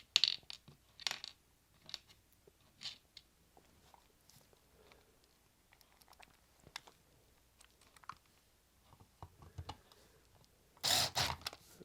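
Small metal screws being taken out and dropped one by one, sparse light clicks and clinks at irregular intervals, quiet and close, with a brief louder rattle near the end.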